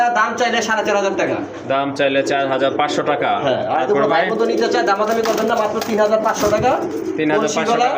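Pigeons kept as a breeding pair in a loft coo loudly and close, rolling throaty calls repeating almost without pause, with bird chatter throughout.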